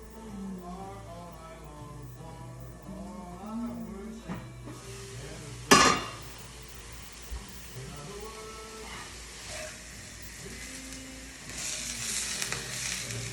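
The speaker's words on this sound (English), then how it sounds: "you want a hot skillet, you want to brown it both sides" Sausage browning in a hot skillet gives a soft sizzle and frying hiss, with a sharp clatter of the pan near the middle, heard under people talking through much of the clip.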